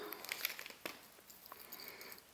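A small bag is opened close to the mic, with light plastic crinkling, soft rustles and a couple of sharper crackles in a quiet room.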